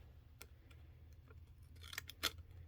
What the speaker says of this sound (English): I think I'm going to cut these off.